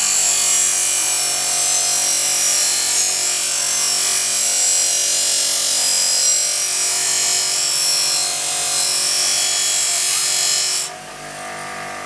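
A power tool polishes Yamaha motorcycle exhaust pipes that still carry some original factory coating. It gives a loud, steady abrasive whir that runs without a break, then cuts off abruptly near the end.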